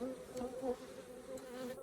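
Faint, steady honeybee buzzing hums close by at a hive during sunflower flow, a continuous drone with slight wavering and no voices.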